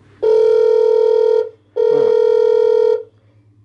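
A JOOAN motorized dual-lens Wi-Fi camera's call button sends a phone-style ring: two loud, steady electronic tones of about a second each with a short gap between them, close and clear, with a brief spoken word between the rings.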